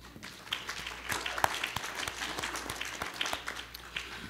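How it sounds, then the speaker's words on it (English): Modest applause at an open session of a master board meeting, a small group clapping with distinct individual claps audible, fairly faint over a low room hum. "One more round of applause on that one."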